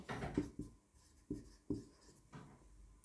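Pen writing on paper while working a school electricity problem on resistance: a few soft, close scratchy strokes and taps, separated by short pauses, quiet and alone.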